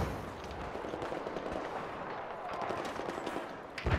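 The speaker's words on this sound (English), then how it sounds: "I hear sniper shots." Sniper rifle shots ring out in the Battlefield 4 video game amid a dense, steady wash of loud battle noise, with a sharper burst right at the end.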